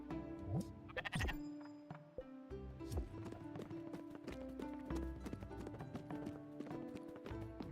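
A sheep bleats in a video game amid busy game audio, with clip-clopping hooves and music-like tones running steadily throughout, moderately loud.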